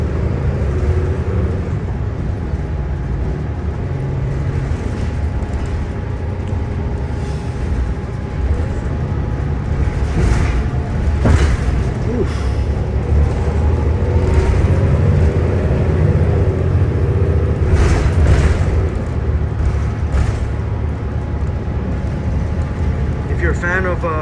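The engine of a TTC 504C King replacement bus rumbles steadily from inside the cabin during the ride, a constant low drone with road noise swelling at moments, while a voice talks over it.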